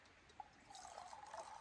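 Hot water poured by chain from a Kelly Kettle into a cup of cocoa outdoors in winter: a faint, steady trickle running for about a second after a soft clink.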